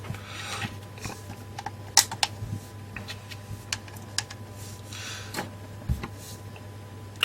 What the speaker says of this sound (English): Right, put the screws back in.